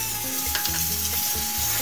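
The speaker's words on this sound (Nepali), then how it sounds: "कोबीको तरकारी अदुवा भुटेर बनाउँदैछौँ" Chopped ginger and cumin seeds frying in a little hot oil for a Nepali cabbage curry, a steady close sizzle with stirring scrapes and a faint background hum, no voices.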